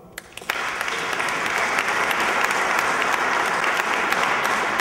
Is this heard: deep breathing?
no